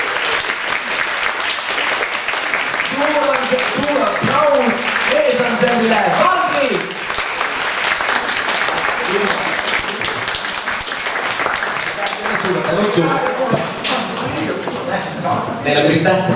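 An audience at a choir concert applauds loudly and steadily for a long stretch, a dense close wash of clapping with voices and talk mixed in throughout.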